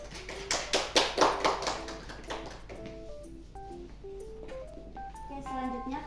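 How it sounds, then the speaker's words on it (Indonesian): Brief classroom applause for a student, a small group clapping briskly for about two seconds before it thins out and gives way to quiet, scattered electronic beeping tones, with faint talk around it. "Nah mungkin cukup berikan aplaus dulu untuk Alif."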